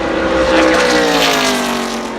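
NASCAR Truck Series race trucks roar past at Talladega in a loud, sustained engine blast that swells and fades slightly as the pack sweeps by.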